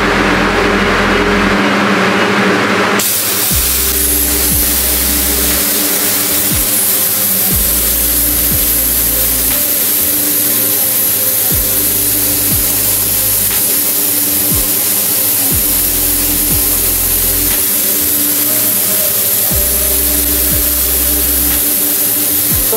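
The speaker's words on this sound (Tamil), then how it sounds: "திருப்பி வந்து நாசில் வந்து ஸ்ப்ரே பண்ண ஆரம்பிக்கும்" A humidity nozzle inside an automatic incubator for chicken and quail eggs sprays with a loud, steady hiss that starts abruptly and runs continuously over a low machine hum and periodic thumps.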